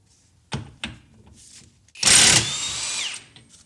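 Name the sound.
Harbor Freight Hercules impact wrench on a 32mm axle nut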